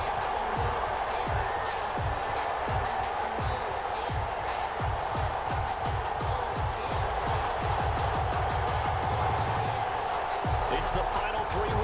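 Stadium crowd in Madden NFL 21 for a Los Angeles Rams versus Detroit Lions game, a constant loud roar with rhythmic thumping and stomping beats running underneath the whole time.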